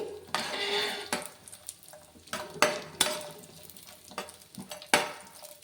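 Raisins frying in ghee in a pan for pumpkin halwa, soft sizzling broken by repeated sharp metal clinks and scrapes of a spoon against the pan, close and fairly quiet, with no talking.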